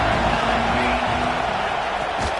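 A stadium crowd roars in a college football video game against Ohio State, a dense, continuous wash of noise that stays loud and even across the moment, with a commentator's voice partly mixed in.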